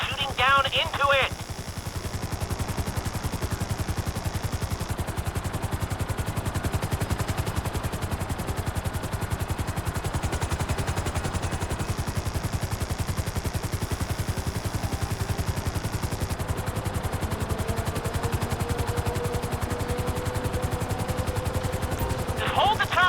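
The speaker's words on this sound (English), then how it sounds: "Just hold the chopper here." A helicopter hovers in GTA 5, its rotor and engine drone running steadily throughout with pulsing beats, while voices talk over it.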